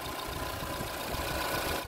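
Fiat Argo HGT 1.8 naturally aspirated, multipoint-injected inline four-cylinder engine running steadily at idle, close and continuous throughout with no talking.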